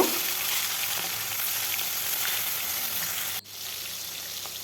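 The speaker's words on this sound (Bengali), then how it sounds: "ভালোভাবে ভেজে নেব উল্টে পাল্টে" Fish pieces frying in hot mustard oil in a kadai for a Bengali fish curry give a steady, loud, close sizzle that runs unbroken, then drops abruptly near the end before resuming more quietly.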